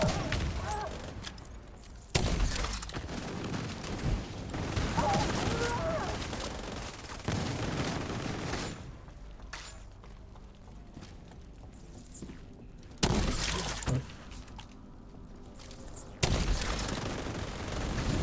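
Gunfire and explosions in a video game: loud broadband blasts at several points, with dense rattling gunfire and crashes filling the stretches between them.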